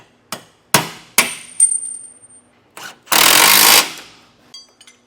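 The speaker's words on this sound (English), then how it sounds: "While you're doing these equalizers, I highly recommend just replacing all the bolts." Wrench work on bolts of RV rubber equalizers on a 2018 Grand Design Momentum trailer: sharp metal knocks and clanks, a short ringing ping, then a loud rasping burst of ratcheting or impact, ending with a few light taps.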